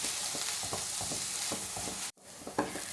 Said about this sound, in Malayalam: ഈ ഒരു സവാള നന്നായിട്ടൊന്ന് വഴന്ന് വരട്ടെ